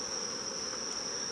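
Honey bees buzzing around a honey super during harvest, agitated after a bloom season ends; a steady, continuous drone fills the short stretch alone, with no talk.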